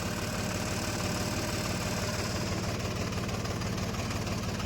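A Mahindra mini tractor engine idles with a steady, low, throbbing rumble that holds an even knock throughout, with no talk over it.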